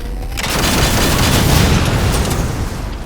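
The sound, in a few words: charged Mantis weapon firing in the Halo 4 video game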